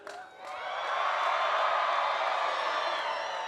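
Graduating class at a college commencement ceremony cheering and whooping from the back of the hall, swelling quickly into a loud, sustained roar that holds steady before easing slightly at the end.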